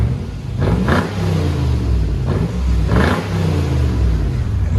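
A 2006 Lexus GX 470 with a 4.7L V8, dual exhaust and deleted muffler, revved loudly nearby in two surges, a deep throaty exhaust roar that climbs and falls back to a rumbling idle.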